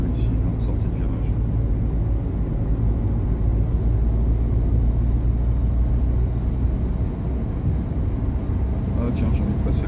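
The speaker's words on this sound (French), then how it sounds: "Là je vais peut-être accélérer un peu ici, en sortie de virage." A car on a driving-test route near Le Havre and Rouen exits a bend. A steady low engine and road rumble is heard from inside the cabin at moderate level.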